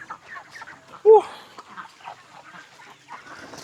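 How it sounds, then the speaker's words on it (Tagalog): Chickens cluck softly and sporadically nearby, with one louder squawk standing out early among quiet farmyard murmurs. "Ang ganda ng size nito mga manok na ito mga bossing."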